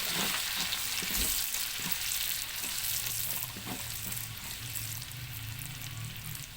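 Onions sautéing and being stirred in a pan for ginataang santol, a steady close sizzle and fry with soft scraping strokes of a utensil running throughout, no voices.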